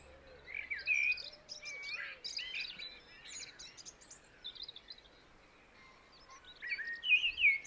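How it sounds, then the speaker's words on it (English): Several birds chirp and trill without pause beside a coastal footpath on the South West Coast Path near Osmington. Bright, varied calls overlap at moderate distance, swell into louder close phrases near the end, and no one speaks. "I savoured the sweet-smelling blossom that lined the trail, and the songs of all the birds"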